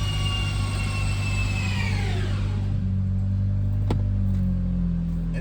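A Mitsubishi Evo engine with a fresh Haltech tune winds down from high revs, its whine sliding smoothly lower until it settles into a steady, even idle hum without dipping or stalling; loud and close throughout.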